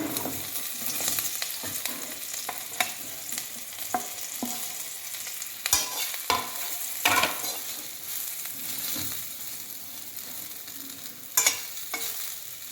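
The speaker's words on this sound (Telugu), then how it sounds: "స్టవ్ మీద కడాయి పెట్టి ఆయిల్ వేసుకుని ఆయిల్ హీట్ ఎక్కాక మనం వేసేసుకోవచ్చు ఆ కాకరకాయలు వేసేయచ్చు" Bitter gourd pieces frying in hot oil in a kadai, a continuous soft sizzle broken by several sharp scrapes and stirring knocks.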